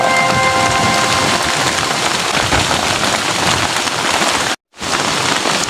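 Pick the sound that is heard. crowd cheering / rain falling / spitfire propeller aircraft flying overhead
rain falling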